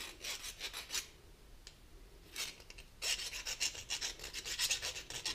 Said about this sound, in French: On prend notre petite lime ronde.